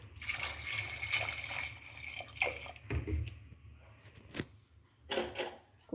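Water is poured into a pressure cooker holding jackfruit seeds with salt, turmeric and chili powder, a close, splashy rush for a few seconds, followed by brief drips and light handling sounds.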